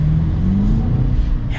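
A 2025 BMW X5M's engine revs in a loud, close, steady rumble, its low droning tone climbing slightly as the throttle holds, with no talking over it.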